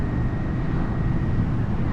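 A Kawasaki VN900 Custom motorcycle engine cruising steadily in fifth gear at around 50 mph, a continuous low, even drone with road and wind rush, close and unbroken throughout.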